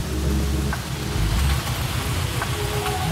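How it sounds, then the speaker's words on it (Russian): Steady rain falling during a thunderstorm near the coast, a dense continuous patter with deep low rumbling underneath, with no speech. "Вот так сопровождается дождь."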